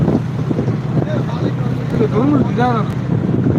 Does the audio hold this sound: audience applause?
no